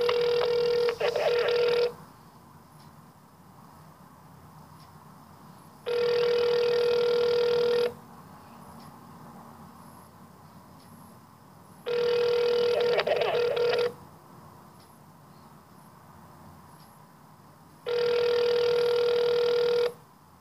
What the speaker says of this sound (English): you'll never ever hear this dial tone if you're in the UK